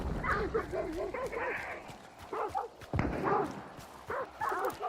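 Dogs bark in short repeated bursts amid video game noise and a sharp thud, fairly close and moderately loud.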